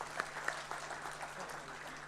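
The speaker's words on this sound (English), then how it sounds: "A huge round of applause" Faint, distant audience applause at a government solar-energy event, a low continuous patter of clapping with a steady hum underneath.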